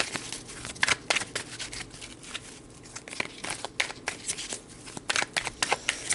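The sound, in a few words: shuffling and pulling tarot cards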